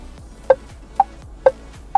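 Car alarm tone on its 'nasional' setting, a short repeating electronic beep chirping at a steady half-second rhythm, faint, clean and alone.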